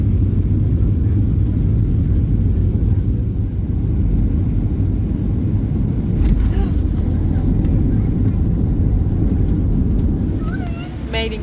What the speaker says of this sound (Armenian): Մեր ինքնաթիռը վայրեջ կատարեց Նաշվիլի օդանավակայանում